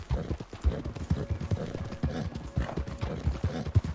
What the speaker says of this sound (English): horses sound like I'm gonna have an asthma attack